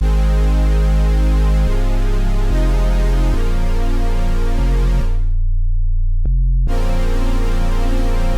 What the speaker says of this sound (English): So the chords and the bass line sound like this